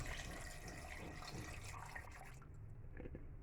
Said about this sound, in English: So we just add a little water,